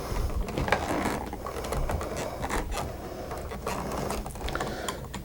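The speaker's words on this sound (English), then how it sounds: "Loosen the screws." A screwdriver loosens the screws of a wall switch during a switch replacement, a close, continuous scraping and ratcheting mechanical grind heard alone without speech.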